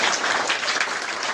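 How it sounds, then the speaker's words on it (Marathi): Steady, dense applause from an audience fills a girls' secondary school event where uniforms are given to students, a continuous wash of clapping without pause. "जोरदार टाळ्या आपण अभिनंदन करूया"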